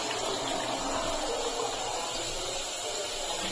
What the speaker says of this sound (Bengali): আর 1 কাপ জল দিয়ে দিচ্ছি